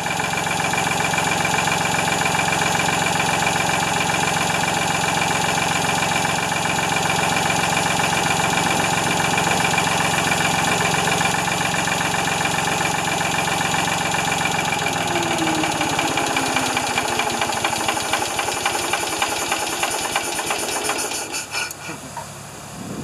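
A Ford 2600 tractor engine idling after a fuel system overhaul with the fuel tank, fuel pump and carburetor, a steady, loud, close knocking rumble that slows and dies down near the end.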